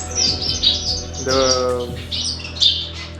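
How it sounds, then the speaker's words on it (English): Several silverbill finches kept indoors chirp and squawk up close in quick, overlapping bursts, with one harsher rasping call in the middle and a brief word spoken beneath. "family of silverbills. There are 3 males and 2 females."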